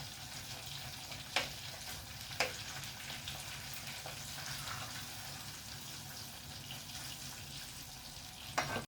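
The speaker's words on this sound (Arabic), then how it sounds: "جبنا الطاسة هنبدأ نقلي بقى، حطينا فيها زيت ننزل كده بس واحدة واحدة" Fish frying in oil in a pan, giving a steady soft sizzle and crackle through the whole stretch, with a few sharper pops and clinks now and then and no talk.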